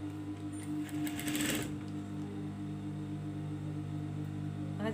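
A sewing machine chain-stitches pajama fabric with a continuous, fast mechanical hum and rhythmic whirring, close and steady, with a brief louder clatter partway through.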